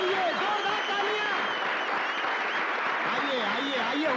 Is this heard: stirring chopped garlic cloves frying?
no